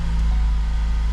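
A 2012-2018 Ford Focus engine, fresh from a motor mount replacement, runs as a steady low idle hum with a broad mechanical drone, close and continuous with no voices over it.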